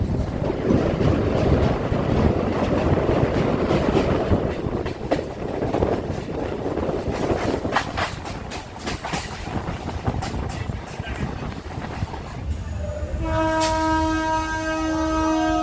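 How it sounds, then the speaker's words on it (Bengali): A Ranaghat–Sealdah local train rumbles loudly and steadily as it rolls into Bidhannagar station, then a long horn blares near the end. "আমাদের ট্রেন ঢুকলো বিধাননগর স্টেশনে"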